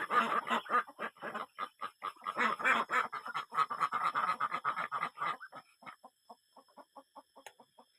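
A flock of farmyard ducks quacks in rapid overlapping bursts, loud and close at first, then thinning to sparser, fainter calls toward the end, with no voices.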